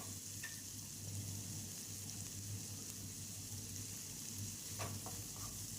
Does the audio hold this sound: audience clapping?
no